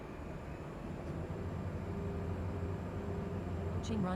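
An aircraft engine in Microsoft Flight Simulator throttling up for takeoff, a steady, fairly quiet droning roar that thickens slightly, with a brief cockpit voice chime near the end.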